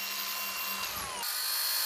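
An electric saw cuts through steel wire rope on a damaged roadside guardrail during outdoor road-repair work, a continuous harsh, high grinding whine with shifting tones, steady and fairly close.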